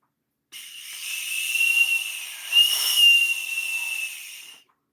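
A whistle blows one long, shrill, steady blast lasting about four seconds, with a breathy hiss running underneath. It is loud and close and heard alone, with no talk over it.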